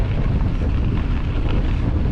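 Wind roars and buffets against the microphone during a bike ride on the Sky Islands Odyssey east loop, a loud, continuous low rumble with gusty fluctuations and no voices.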